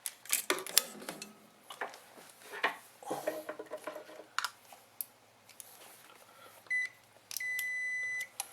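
A multimeter tests continuity across a refrigerator compressor relay. Scattered clicks and handling taps lead into a short chirp, then a steady, sustained electronic beep near the end.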